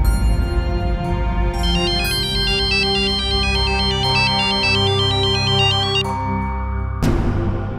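A bright electronic ringtone plays a repeating melodic pattern for several seconds, loud and close, cutting off abruptly near the end.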